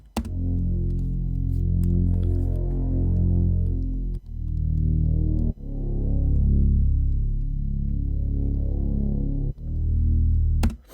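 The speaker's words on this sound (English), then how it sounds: "all I did after that was add these this sub bass, just following the root notes of the chord progression." Deep sustained sub bass notes following chord root notes in a UK rap beat throb low and smooth, changing pitch every few seconds with a soft hum, alone and fairly loud.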